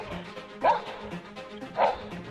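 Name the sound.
dog barking at an approaching black bear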